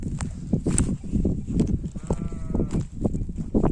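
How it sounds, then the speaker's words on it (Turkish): Sheep bleat from a flock out in the open, a few wavering calls rising over scuffling, rustling movement, with faint voices nearby. "Koyunumuz burada."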